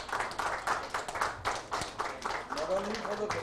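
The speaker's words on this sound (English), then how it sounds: "A big hand of clap, please." Scattered audience clapping at a medical conference felicitation, uneven individual claps close by with speech overlapping toward the end.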